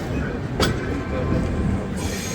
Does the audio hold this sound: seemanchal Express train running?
yes